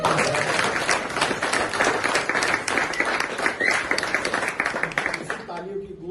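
An audience claps steadily and densely at a live cultural event in Mumbai, the applause loud and continuous for several seconds before tapering off at the end.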